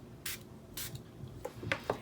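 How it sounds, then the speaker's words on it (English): A spray bottle mists liquid over pigment sprinkles on paper: several short, soft spritzes at irregular intervals, fairly faint against a quiet room. "Now if you spray over top, you're less likely to shoot the sprinkles everywhere."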